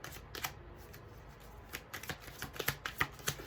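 Tarot cards are shuffled and drawn by hand, giving a quick series of close riffling flutters and light snaps in an uneven rhythm, with no talking.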